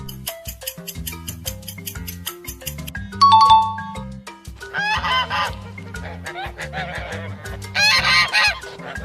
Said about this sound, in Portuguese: Se você respondeu que esse é o som do ganso